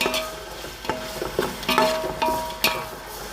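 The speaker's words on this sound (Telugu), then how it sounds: "ఇప్పుడు ఇది మసాలా వేసేస్తున్నాను దీంట్లోకి, బిర్యానీ మసాలా. ఇవన్నీ వేసి వేపేస్తున్నాను." Biryani masala fries in a pan for Nellore-style prawn biryani, a soft steady sizzle broken by repeated scraping stirs of a spoon against the pan, close up and without speech.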